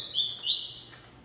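A coleiro songbird, a tournament-bred bitola bird, gives a quick bright chirping phrase up close, two or three high sharp notes in the first half second that fade out over a low background hum.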